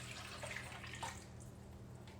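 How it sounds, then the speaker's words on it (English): Water and milk poured into a pan of drained, cooked ground beef for oriental-style noodles, giving a steady splashing pour under a low hum with no talk. "I'm gonna add 2 cups of water and 1 cup of milk."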